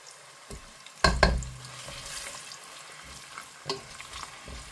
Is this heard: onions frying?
yes